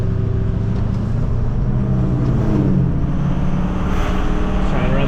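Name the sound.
Ford 6.4 Powerstroke diesel truck driving through gears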